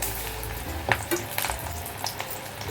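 Corn pakoda fritters dropped into hot oil and frying, a steady soft sizzle with a few sharper crackles and pops as pieces go in.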